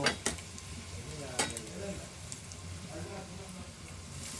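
Chana dal frying in tempering oil gives a faint, steady sizzle, broken by a few sharp clinks of a utensil against the pan near the start and middle, no voices.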